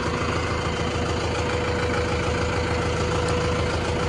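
A heavy 50 HP Mahindra Arjun Novo tractor engine idles steadily, a loud, continuous low chugging throb with no pauses.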